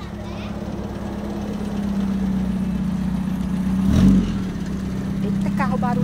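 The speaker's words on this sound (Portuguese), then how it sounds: "Eita, carro barulhento." A noisy car engine rumbles past on a street, a steady mid-pitched drone that swells to a peak about two-thirds through and then eases, with faint voices underneath.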